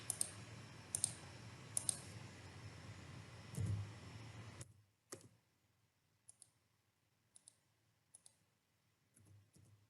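A computer mouse clicks sharply and close, in single and double clicks spread out over a quiet background with a brief rustle.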